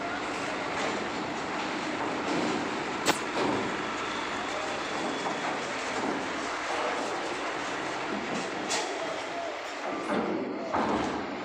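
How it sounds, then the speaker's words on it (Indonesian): Trucks and private cars roll off a ferry at a harbour in a steady, dense rumble of engines and tyres, with an occasional sharp thump and faint voices now and then. "ada truk mobil pribadi pada keluar satu arah nih"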